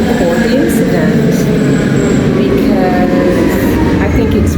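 Loud, steady roar of a train at a station in Geneva, Switzerland, a dense rumbling drone with faint high squeals, continuous throughout with no pauses.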